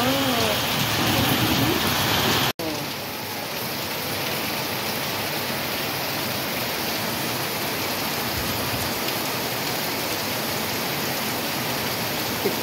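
Heavy rain driven by strong wind, a loud dense continuous roar of downpour with a brief break near the start before the steady rush resumes.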